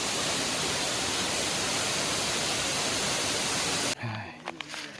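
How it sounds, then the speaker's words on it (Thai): The roar of the Huai Haeng waterfall at Thi Lo Su pours as a loud, steady broadband rush for about four seconds, then cuts away to quieter sound with voices. "น้ำตกห้วยแห้งน้ำตกทีรอสิ"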